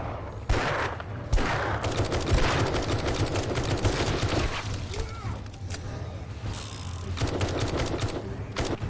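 Dense gunfire in 7 Days to Die crackles in rapid, overlapping bursts with some breaking and impact noise mixed in, continuing loudly throughout with brief lulls.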